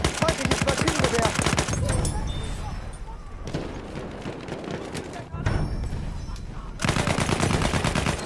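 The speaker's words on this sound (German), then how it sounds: "Feindliches Maschinengewehr!" Rapid bursts of enemy machine gun fire in a Battlefield 1 battle, loud and close, in dense stuttering volleys separated by brief lulls, with shouting voices mixed into the din.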